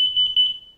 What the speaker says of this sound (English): What you're hearing right now is the fire alarm going off in this combo carbon monoxide and smoke detector